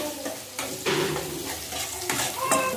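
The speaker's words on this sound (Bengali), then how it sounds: "সুন্দর করে রসুনটা ভাজা করে নিচ্ছি" Garlic fries in hot oil in a pan with a close, crackling sizzle, interrupted by several sharp scraping stirs and a faint clink of utensils.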